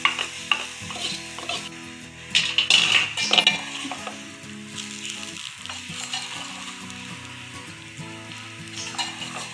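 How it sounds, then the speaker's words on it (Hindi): Browned onion tempering hits mash dal with a loud sizzle, followed by stirring and metal utensil clinks against the pot, frying continuing underneath with background music. "प्याज हमारी ब्राउन हो चुकी है, बघार हमारा। अब हम इसमें डाल देंगे दाल में।"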